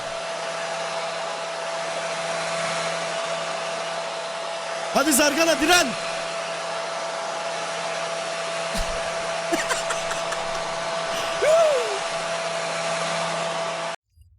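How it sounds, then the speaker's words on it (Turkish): A hair dryer runs steadily for about fourteen seconds at a constant close whine, then cuts off abruptly; brief shouted voices break in over it a couple of times. "fön makinesiyle tuttum şimdi"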